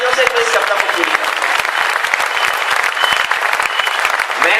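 A hall audience at a Hindi poetry recital on black money breaks into dense, sustained applause, loud and continuous throughout, with crowd noise mixed in.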